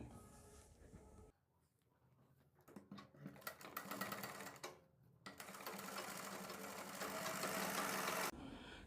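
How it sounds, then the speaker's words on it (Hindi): An electric sewing machine stitches a pressed fabric strip for a kurti neckline with matching thread, its motor whirring in a fast, steady mechanical rattle that starts, pauses briefly, then runs longer and louder nearby. "दोनों ही साइड पर सेम कलर के धागे से सिलाई लगा लेनी है"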